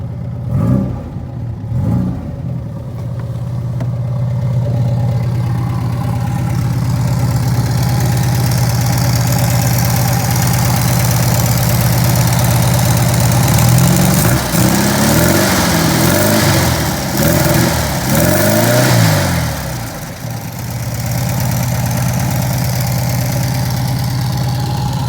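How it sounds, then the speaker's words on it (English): A small turbocharged VW Beetle engine idles steadily, then revs up several times in quick bursts before settling back to a rough idle. "you don't really build boost when you're sitting here just revving it up"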